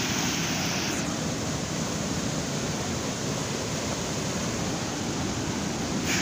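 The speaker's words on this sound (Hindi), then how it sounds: "पानी की आवाज़ से भी आपको अंदाज़ा हो रहा होगा कि बहुत ही तेज़ पानी है यहाँ पे" Fast water rushing in a village stream, a dense continuous roar that holds at a steady level throughout, with no voices.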